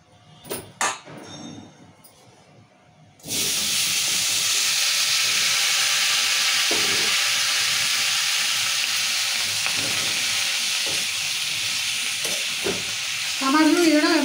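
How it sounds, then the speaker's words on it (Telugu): Tomatoes frying in oil in a pan for a Telugu tomato and green chilli chutney, a few clinks of a utensil, then a loud, steady sizzle that holds throughout with occasional stirring scrapes. "టమాటాలు ఇది కూడా మంచిగా నూనె ఇట్లా ఉడికించుకోవాలి."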